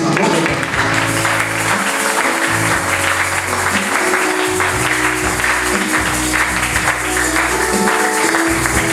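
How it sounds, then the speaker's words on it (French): A church congregation applauds during a sermon, producing a steady, loud, continuous wash of clapping that mixes with a reverberant hall hum and lasts throughout. "Applaudissez-vous."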